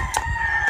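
A rooster crows briefly, a short loud burst close by, with a faint steady tone in the background.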